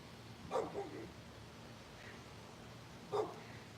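A neighbor's dog barks outdoors, two separate bursts of a couple of barks each, moderately distant, with a soft call between them over low background noise.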